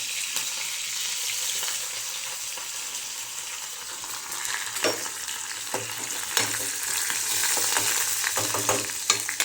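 Garlic sizzles steadily in hot oil with cumin for tempering while a spoon stirs it, clinking and scraping the pan now and then.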